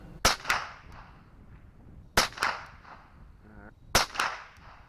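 Three sharp, close gunshots from an American Tactical Scorpion HV .22LR rifle at a shooting range, evenly spaced about two seconds apart, each a crisp crack with a short echo, with no talk.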